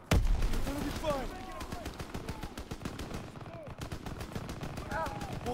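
Scattered gunfire in the World War II shooter game Call of Duty: WWII, with sharp shots and bursts at moderate distance, irregular and repeated over shouted voices and battle noise.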